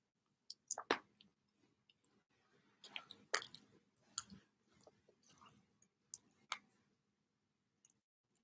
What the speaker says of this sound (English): And I am chewing on some bones.